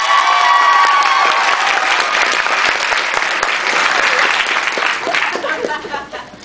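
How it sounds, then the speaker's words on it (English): Loud, dense applause from an audience, with cheering and shouts mixed in, sustained for several seconds before tapering off at the end. "I want you guys to clap as loud as you can for Dawson's Creek."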